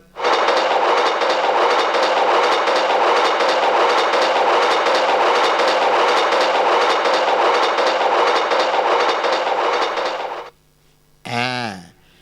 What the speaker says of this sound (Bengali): ওই তো ট্রেনটা ঢুকলো